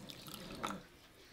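Cold water pours into a saucepan of sugar and glucose, a brief, quiet splash and trickle with a slightly louder burst midway, heard close up in a quiet kitchen.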